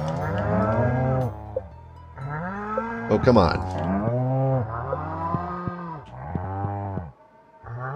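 Cattle lowing in the farming game Stardew Valley, several drawn-out moos following one another at close range, with a brief spoken remark in between.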